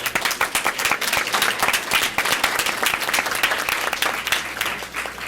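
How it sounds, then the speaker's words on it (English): A round of applause at a board of education meeting for recognized students, with dense, continuous clapping from an audience in a hall, holding steady for several seconds. "let's give them one more round of applause"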